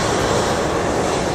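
An Air France airliner on the south runway, a loud, steady broadband jet engine roar filling the whole moment without change, near and with no voices.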